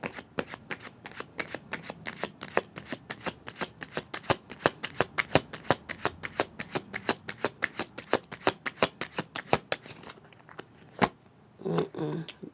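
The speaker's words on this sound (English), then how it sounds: "And let's get a card for that one." A deck of playing cards is riffled in a long, fast run of crisp, evenly spaced flicks close to the microphone, then stops short, with a brief voice and handling noise at the end.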